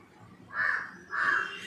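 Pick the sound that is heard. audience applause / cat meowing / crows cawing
crows cawing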